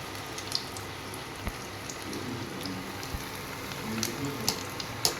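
Chicken pieces for homemade KFC-style fried chicken sizzle steadily in hot oil, a soft, even crackle with a few sharper pops scattered through, close by and with no talking.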